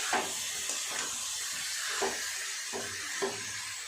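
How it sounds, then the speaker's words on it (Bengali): Fried cauliflower and potato are sautéed with spices over a high gas flame, making a steady hissing roar broken by four or five soft scraping strokes of a spatula. "গ্যাসের ফ্লেম বাড়িয়ে দিয়ে এইভাবে সমস্ত সবজির সাথে মশলাগুলোকে ভালো করে কষিয়ে নেব"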